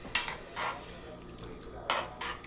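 Pork adobo is stirred in a pot, a spoon scraping and clinking against the metal in several separate bursts of a few strokes each, close and fairly quiet over a faint low background.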